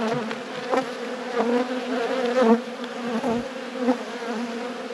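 Honey bees hum steadily and close-up during a beehive inspection, a dense continuous buzz with individual bees swelling louder as they pass nearby, and no talking.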